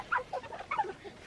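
Young chickens (pullets) cluck softly in short, scattered calls at dusk on a homestead, fairly close and moderately quiet, several brief bursts over a faint background.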